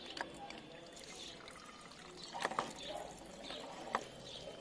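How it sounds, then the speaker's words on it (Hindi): Water rushes under pressure into a plastic Holi water gun bottle, a soft continuous pouring hiss with irregular gurgles and a few sharp splashy bursts, fairly faint and close. "पानी काफी स्पीड से भरा जा रहा है इसके अंदर प्रेशर से।"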